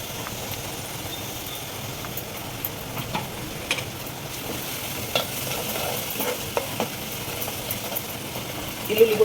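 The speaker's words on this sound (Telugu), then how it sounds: "వెల్లుల్లి కూడా బాగా వేగాలి." Garlic paste fries in a pan with a soft, steady sizzle, punctuated by occasional spatula scrapes and stirs, and a louder clatter near the end.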